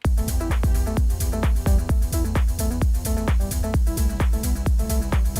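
A driving slowed-down melodic techno track with a steady kick beat, deep bass and repeating melodic synth lines, loud and continuous.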